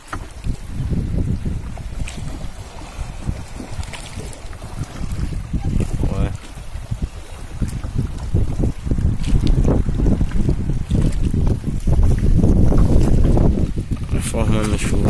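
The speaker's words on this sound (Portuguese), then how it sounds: "Esse vento forte." Strong wind roars steadily across the microphone on a fishing boat out on the water, a dense rumbling gust that swells louder toward the end, with water sloshing beneath and voices faintly present.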